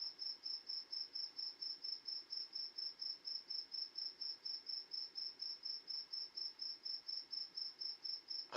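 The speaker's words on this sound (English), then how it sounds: "I hear a cricket." A cricket chirps outdoors with a steady rapid pulsing trill, faint but clear and continuous against quiet night air, with no voices.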